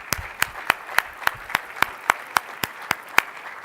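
Clapping at a real estate lunch-and-learn event in Palm Springs comes as sharp, evenly spaced claps, about three or four a second, from what sounds like just a few hands nearby.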